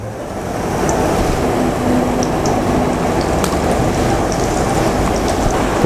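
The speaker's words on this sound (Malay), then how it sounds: "Tumiskan sedikit bawang putih, halia." Garlic and ginger sautéing in hot oil in a home kitchen while a Malaysian braised beef dish is prepared, giving a loud, steady, dense sizzle that runs continuously without pause.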